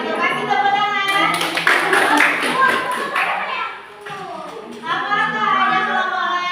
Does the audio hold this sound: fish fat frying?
no